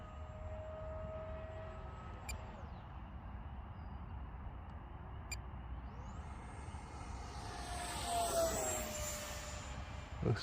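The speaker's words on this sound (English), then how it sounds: "I like this plane has like a whoosh sound when it's coming out of a dive" An F-86 Sabre jet in a flight game, a steady engine roar that swells into a rising whoosh as it pulls out of a dive near the end.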